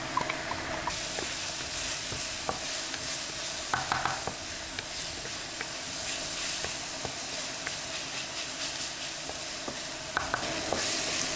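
Garlic and shallot mix sizzles in hot oil in a wok, a steady close frying hiss with occasional clinks and scrapes of stirring.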